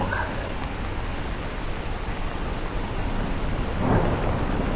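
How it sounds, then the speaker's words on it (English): Thunder rumbles through a steady wash of heavy rain, swelling into a louder nearby crack and roll near the end while the downpour hisses on continuously. "That's a big bit of thunder and lightning"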